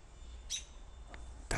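Birds call outdoors in a few brief, faint chirps spread across a quiet background, the last one louder and closer.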